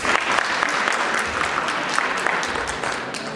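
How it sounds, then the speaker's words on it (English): Audience giving itself a round of applause at a motivational talk, a brief burst of steady, fairly even clapping from a crowd, moderately loud throughout. "Give yourself a round of applause."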